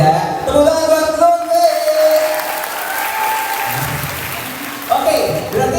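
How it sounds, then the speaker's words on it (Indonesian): Applause for Lutfi at a meet-and-greet with champions in Bali, a crowd clapping steadily for several seconds over a sustained tone, with talk in the room around it. "Tepuk tangan buat Lutfi."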